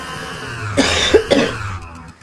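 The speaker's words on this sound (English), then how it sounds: "See, the first cough's coming up." A person coughs twice in quick succession, close and fairly loud, followed by a short breath.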